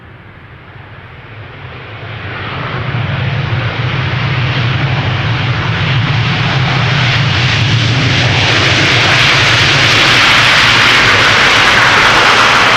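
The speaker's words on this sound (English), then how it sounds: "with a Dreamliner arriving from Cartagena being number 2" A Boeing 787 Dreamliner arriving at Amsterdam Schiphol swells from a distant whine into a loud, broad jet roar that builds over a few seconds and holds steady, close and overpowering.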